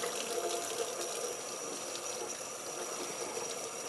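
Tap water runs steadily into a sink while CPAP parts are rinsed, a continuous close splashing hiss with no talk.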